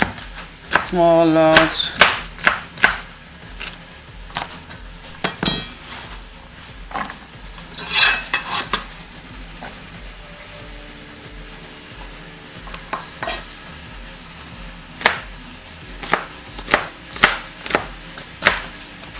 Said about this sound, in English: we're gonna cut these greens